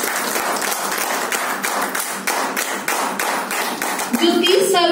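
Audience applause at a health and wellness talk, with steady dense clapping filling the whole stretch before a voice begins speaking near the end.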